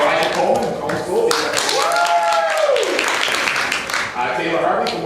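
Loud, sustained audience applause greets contestants at a quiz game show, filling the room continuously while a presenter talks over the clapping.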